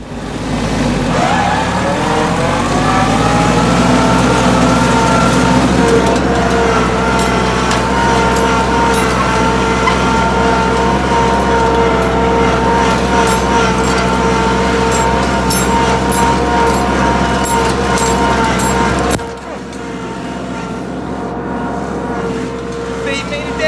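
A tractor pulling a chisel plow across a field gives off a steady, loud engine drone with a deep low rumble, continuous and close, that drops back slightly near the end.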